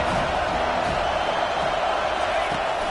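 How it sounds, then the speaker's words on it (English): Football stadium crowd in Florida roaring early in the game, a dense, steady wall of cheering and chatter that stays loud throughout without letting up. "This crowd bringing the energy and noise early."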